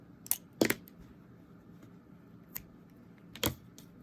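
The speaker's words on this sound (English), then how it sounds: "And cut the yarn." Scissors snip embroidery yarn with a few sharp, close clicks, a quick double cut followed by two more isolated snips against near silence, with no talking.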